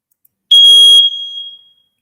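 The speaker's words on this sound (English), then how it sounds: "my burger alarm just went off" A smoke alarm shrieks while a burger cooks, one loud piercing electronic beep for about half a second, then a ringing tail that fades out in the quiet.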